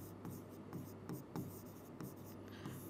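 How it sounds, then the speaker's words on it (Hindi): A teacher writing a word again by hand during a Hindi grammar lesson makes a series of faint, rhythmic scratching strokes, close by in a quiet room. "एक मिनट पुन इसको फिर से लिख देती हूँ"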